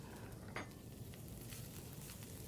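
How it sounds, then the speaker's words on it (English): Edible weeds being stirred in a hot pan during a community cooking session at a library, a soft continuous sizzle with a single utensil scrape near the start, faint and steady. "we're going to stir these up a little bit"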